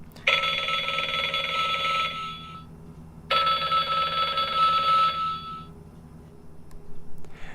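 An Oregon Scientific talking countdown timer plays its telephone ring sound effect as two bright, trilling electronic ring bursts, each about two seconds long, with a short gap between them, heard close and clear.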